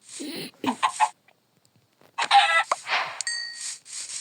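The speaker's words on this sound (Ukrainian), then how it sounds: "О, курочка." Chickens cluck and squawk in the Minecraft video game, a few short bursts near the start and a louder cluster of calls in the second half, with a brief quiet gap between them.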